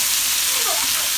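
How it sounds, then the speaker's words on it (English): Pasta and broccoli sizzle in a hot pan with a soft, continuous crackling hiss, close by and on its own. "Can you hear that sizzling in there?"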